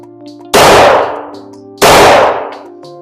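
Two loud gunshots from a new firearm at a shooting range, about 1.3 seconds apart, each a sharp blast with a ringing tail, over a quiet steady hum.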